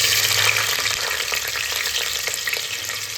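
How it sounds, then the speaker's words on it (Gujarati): Paneer frying in hot oil over a low gas flame, a loud close steady sizzle and crackle with light stirring noises running throughout, and no voices. "હવે આપણું તેલ ગરમ થવા આવ્યું છે હવે પહેલાં એમાં હું નાખીશ આપણે પનીર ફ્રાય કરી લઈએ"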